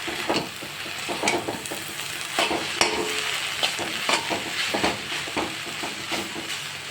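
A lentil mixture for jute-leaf masoor dal fries in a pan, sizzling and hissing steadily as it is stirred in repeated scraping strokes, close and fairly loud with no talk.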